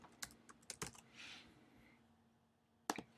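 Keys clatter on a computer keyboard as a web address is typed, a few quick clustered taps, a short pause, then another burst of keystrokes, close and clear in a quiet room.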